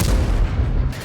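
Strv 103B tank firing its main gun in a tank video game, a single heavy low boom rolling out over about a second, loud and alone without talk.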